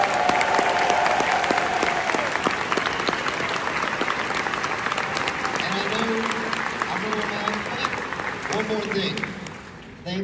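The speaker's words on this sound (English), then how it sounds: "Let's give one round of applause for all the teams here." A convention crowd applauds the teams at a closing ceremony, long, loud, continuous clapping filling the hall, with cheering voices audible beneath it.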